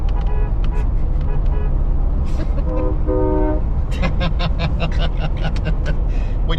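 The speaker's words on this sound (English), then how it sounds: "We just had him honk." A bus horn honking on a road beside a Jeep Wrangler convoy, several loud tonal blasts rising over engine and road noise, with short repeated toots toward the end.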